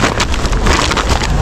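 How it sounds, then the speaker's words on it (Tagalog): Heavy rain and wind buffet the microphone outdoors on a street during dumpster diving, a steady loud broadband roar of rainfall and gusts with no talking. "Malakas na ulan."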